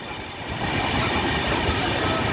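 A train on the Visakhapatnam to Araku line runs through a lit tunnel, a loud, steady, close rumbling roar that builds slightly at the start and fills the whole stretch with no voices.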